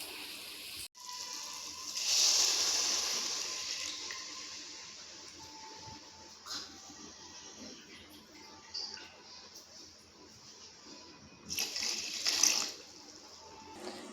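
Water poured from a bowl onto sugar to make syrup for gulab jamun, a soft hissing pour that rises, runs steadily and tails off, with a brief splashy burst near the end; close and moderately quiet.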